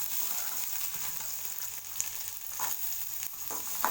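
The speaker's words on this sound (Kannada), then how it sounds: "ಸ್ವಲ್ಪ ಬಾಡಿಸಿದ ನಂತರ ಸ್ವಲ್ಪ ಈರುಳ್ಳಿ ಇದನ್ನು ಬಾಡಿಸೋಣ" Onions sauté in a hot pan, a steady close sizzle with faint stirring clicks and scrapes now and then, no one speaking.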